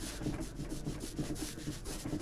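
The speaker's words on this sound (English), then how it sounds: "now doing a coat on some very thirsty birch ply" Brush strokes rubbing a coat of finish onto thirsty, absorbent birch plywood, a steady close scrubbing swish repeating in quick even rhythm with no talk.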